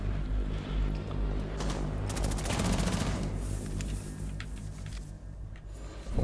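Rapid automatic gunfire in Rainbow Six Siege, a burst of closely spaced shots followed by scattered single reports and impacts over a low in-game background rumble, no talk.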